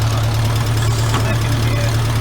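An engine on farm machinery with a weak battery idles steadily and close, a constant low hum with a faint knocking undertone, over about two seconds.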